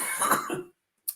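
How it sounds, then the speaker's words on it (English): A person coughs hard in a burst lasting about half a second, then a single short cough follows after a pause, close and fairly loud, with no talking. "As I literally coughed my guts up."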